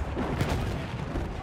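Mortar fire in Battlefield 1, a short dense burst of muffled booms and rumbling impacts with no voices.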